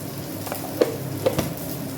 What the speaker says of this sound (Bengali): দেখো এদিকে বেগুন ভাজাটাও লাল হয়ে গেছে